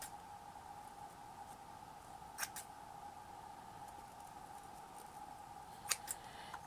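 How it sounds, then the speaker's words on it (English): Scissors trim the ribbon loops of a shabby chic flower and bow headband, with two short, crisp snips spaced a few seconds apart, faint over a steady background hum. "you just trim all the loops you've just made"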